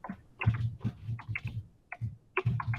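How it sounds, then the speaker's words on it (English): Typing on a small computer keyboard: a steady, irregular run of soft, close key taps and clicks continues for a few seconds with no talk over it. "don't make fun of my typing"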